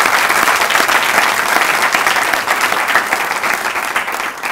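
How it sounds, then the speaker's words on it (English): Steady, loud applause from an audience at a professorial inauguration ceremony, a dense wash of many hands clapping continuously without pause. "I think we should give her another round of applause."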